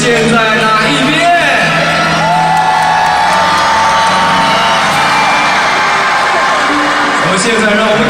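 A live killer whale show audience cheers, whoops and shouts in a loud, continuous crowd roar that swells and fades in waves, with an announcer's voice talking over it.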